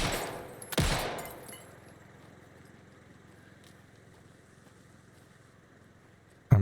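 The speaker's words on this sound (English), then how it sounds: "Am I supposed to shoot these bottles?" One loud gunshot in the Alan Wake II video game as a player fires at bottles, followed by a long quiet, low hum and an abrupt second sharp sound at the very end.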